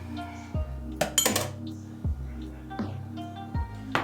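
A spoon clinks and scrapes against a bowl in short repeated bursts while garlic is stirred into a soy sauce mixture, with a quiet hum underneath.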